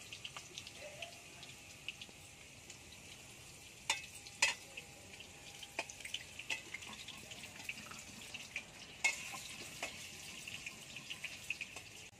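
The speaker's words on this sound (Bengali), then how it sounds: "আলুটা ভাজা হোক" Potatoes fry in a pan in a home kitchen, a quiet, steady sizzle broken by scattered sharp pops and clicks, with no talking.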